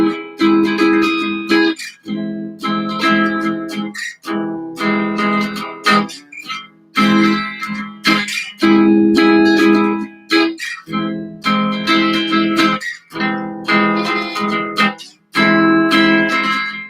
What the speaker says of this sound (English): So basically, the inside chords sound like this.